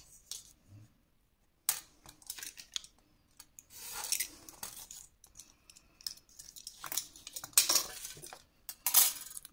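Scissors cutting scrapbook album binding material: a series of crisp close snips and paper rustles in short bursts, with no talking, after a brief quiet pause near the start.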